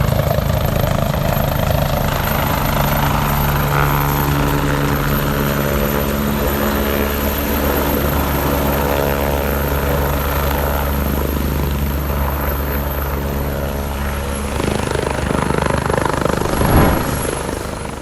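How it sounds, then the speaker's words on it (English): A loud helicopter carrying a plane roars continuously with deep rotor thumping and a steady engine whine, close and overwhelming throughout. "Yes, that's a helicopter carrying a plane."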